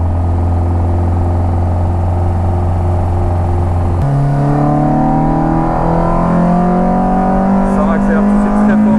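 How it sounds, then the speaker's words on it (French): A VW Polo and Golf accelerate hard on the Nürburgring Nordschleife track. A loud, steady engine drone shifts pitch at a gear change, then climbs steadily. "Ça accélère tout de suite très fort, punaise."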